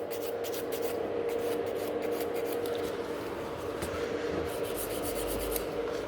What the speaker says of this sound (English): a wee lifting, I need to file that off